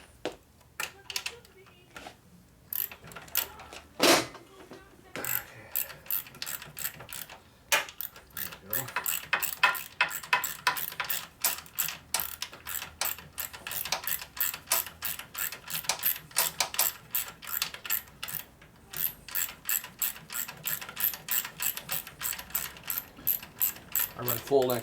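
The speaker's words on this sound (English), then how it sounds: "So we get the little mini ratchet out." A mini ratchet tightens a bolt on a Harley-Davidson Sportster XL 650 single, giving long runs of rapid, close clicking with short pauses. The clicks speed up and grow denser as the clip goes on.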